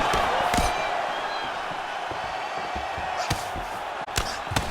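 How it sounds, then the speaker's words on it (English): A loud arena crowd at an MMA fight roars and swells continuously, reacting to strikes, with sharp thuds and slaps cutting through the noise every so often. "you hear the crowd react every time they come together"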